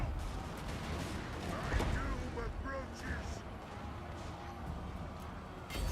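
Dwarf missile units fire volleys in a Total War: Warhammer multiplayer battle, a dense continuous rumble of gunfire and battle noise with a brief louder burst, under commentary.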